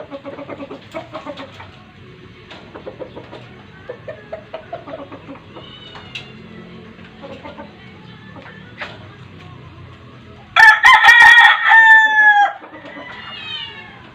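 Chickens cluck and squawk intermittently at a moderate distance, with a loud burst of crowing and calling near the end.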